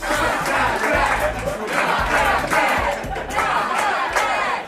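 A wedding reception crowd roars and cheers after a Shakespeare recital of Henry V and The Tempest, a dense, steady wall of voices with a few swelling bursts and low hum underneath.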